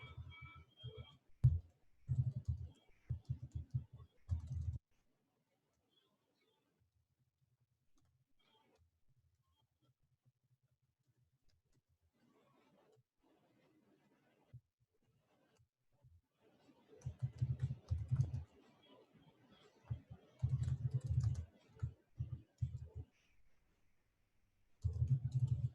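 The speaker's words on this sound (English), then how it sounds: "let me type it out" Bursts of clicky keystrokes on a computer keyboard come in two busy spells separated by a long near-silent stretch, with quiet ticks and low hum between, fairly close and moderately loud, no talking.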